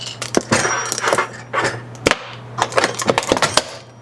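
Thin plastic gallon water jug crunching and crackling under handling, a string of sharp irregular snaps and crinkles at close range, with a steady low hum beneath.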